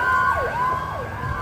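A Hatzolah emergency vehicle siren wails nearby in a loud, continuous rising and falling sweep that repeats over low traffic rumble.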